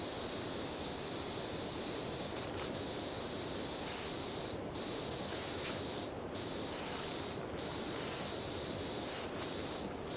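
Pressure washer in PowerWash Simulator spraying continuously, a steady broad hiss like white noise with occasional brighter bursts as the jet shifts.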